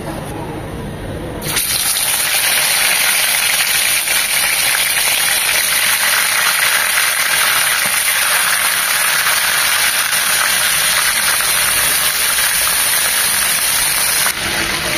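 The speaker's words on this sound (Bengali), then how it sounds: "মিডিয়াম টু লো হিটে ভেজে নেব, একদম কড়া করে ভাজবো না" Chicken pieces fry in plenty of soybean oil in a pan over medium-low heat, giving a steady, loud, broadband sizzle that starts abruptly and continues evenly for the rest, with light kitchen sounds.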